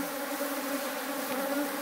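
Honeybees buzzing around beehives outdoors, a steady, even drone of many insects at moderate distance, continuous and without talk.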